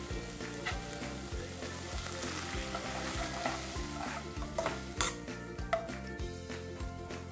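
Gobi Manchurian sauce bubbling and sizzling in a pan after water is added, while a utensil scrapes and stirs in a steady rhythmic pattern, fairly quiet, no talking.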